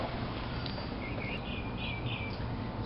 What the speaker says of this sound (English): I hear a lot of birds chirping here.